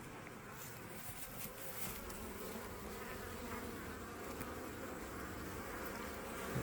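Honeybees buzz around a hive entrance on a fall day as the colony heads into winter, a soft, continuous drone of many wings with brief louder passes as individual bees fly close.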